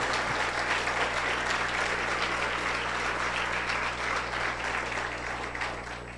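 A church congregation applauds steadily, a dense, even wash of many hands clapping that holds for several seconds and eases slightly toward the end, with no voices standing out.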